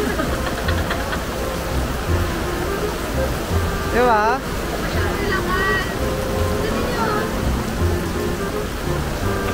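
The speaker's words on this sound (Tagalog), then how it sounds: "Tingnan nyo yung ulan, guys, ang lakas." Heavy rain in Singapore, a loud dense continuous hiss and patter filling the whole stretch, with brief voices talking over it.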